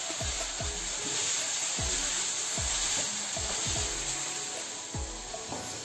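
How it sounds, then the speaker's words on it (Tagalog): Potatoes sizzle steadily while frying in a pan, with repeated scraping strokes of a utensil stirring them at an irregular rhythm throughout. "Habang hinahalo po natin ang ating patatas, titiplahin po natin ng kaunting asin"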